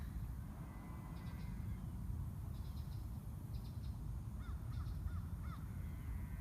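Crows caw in short faint bursts in the distance outdoors, several calls spread across the stretch over a steady low rumble of ambient noise.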